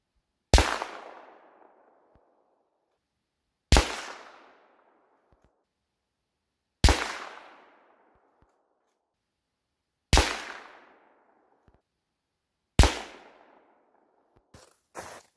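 Five single rifle shots from a Mauser, each a sharp loud crack with a ringing decay, spaced about three seconds apart outdoors, followed by a few faint clicks at the end.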